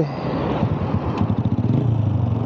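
A Rusi Classic 250 motorcycle engine, recently repaired after a carburetor vacuum hose problem, idles close by with a steady, slightly lumpy putter and a low throbbing pulse, heard alone.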